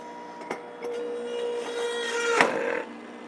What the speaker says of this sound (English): Sorry if the juicer's a little noisy.